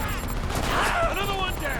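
Gunfire in the war shooter Homefront, a sustained fusillade of shots under a shouting voice, loud and close throughout.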